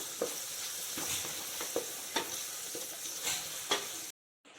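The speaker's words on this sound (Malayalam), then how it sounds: "ആ സവാള നേരെ ഇതിലേക്ക് തട്ടിക്കൊടുക്കുക എന്നിട്ടൊരു മീഡിയം ഫ്ലെയിമിൽ തന്നെ നമുക്കിത് ചെറുതായിട്ടൊന്ന് സോട്ട് ചെയ്തെടുക്കാം" Sliced onions sauté over a medium flame for chicken madhooth masala, sizzling steadily in the pan with repeated scraping stirs of a spoon at regular intervals before cutting off abruptly.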